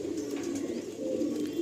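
Pigeons coo softly and steadily in a breeder's loft in Behala, Kolkata, a low continuous murmur with no voices over it.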